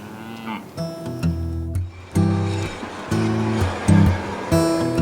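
Cattle on a ranch lowing repeatedly, several drawn-out moos from nearby animals overlapping one another with a faint rushing noise in the background.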